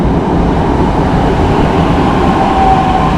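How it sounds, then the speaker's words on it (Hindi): A Mumbai metro train arrives on the opposite side of a station platform, giving a loud, steady rumble and hum that fills the whole stretch without pause, with a faint high whine near the end. "सो ये अपोजिट साइड का मेट्रो आ गया है।"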